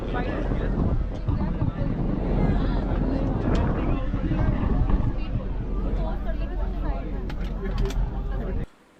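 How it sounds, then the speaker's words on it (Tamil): Strong wind buffets a ferry crossing the Arabian Sea from Elephanta Island toward Mumbai in the evening, a steady loud rush with microphone buffeting and engine rumble underneath, ending abruptly. "காற்று வரக்கூடிய சத்தத்தை பாருங்கள், அவ்வளோ அருமையாக இருக்கும்"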